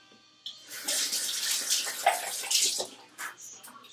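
Tap water runs steadily into a sink to wet a small silicone brush cleanser during a facial routine, close and fairly loud, with splashy shifts as the object is held under the stream.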